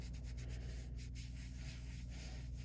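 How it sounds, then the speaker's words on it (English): A cloth rubbing oil over the base of a vintage Singer 128 sewing machine gives a soft, continuous close-up swishing with quick rhythmic strokes, faint and steady, no voices. "And then you take your cloth, and I'm just going to start rubbing."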